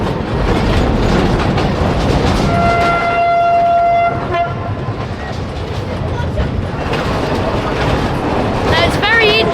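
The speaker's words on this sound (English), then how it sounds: "what's this steam train doing in the middle of our street?" A narrow gauge steam train rolls along rails of the Środa County railway, with steady loud rumble and clatter, a sustained whistle blast in the middle, and a hissing, squealing stretch near the end.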